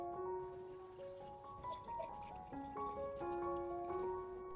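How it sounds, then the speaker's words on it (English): Filtered water poured onto chopped aloe vera in a container, a faint trickling and splashing heard alone under a background of soft steady musical tones. "Next, I will add about 500 milliliters of clean filtered water."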